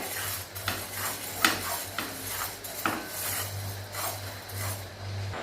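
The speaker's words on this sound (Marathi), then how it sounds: "पिवळी मोहरी घालूया तर ही आपल्याला सेपरेटच भाजून घ्यायची आहे" Yellow mustard seeds dry-roasting in a pan, heard as quiet, irregular metallic clinks and scrapes of stirring over a faint background hum.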